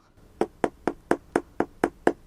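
Knuckles rap on floor tiles to test for hollow spots, about nine sharp, evenly spaced knocks in a steady rhythm, close and clear with no voices.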